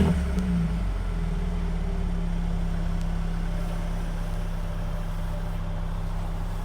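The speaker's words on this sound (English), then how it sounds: "Here we have the 2020 AMG CLA 35 going for a night drive." Steady low engine drone from a 2020 Mercedes-AMG CLA 35 on a night drive, a constant hum and road noise throughout with a slight swell in the opening second.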